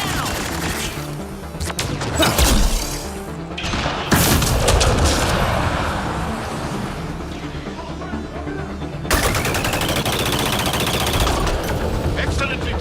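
Mass Effect Andromeda combat with sustained automatic gunfire and heavy grenade booms, dense and loud throughout, with bursts of crashing impacts.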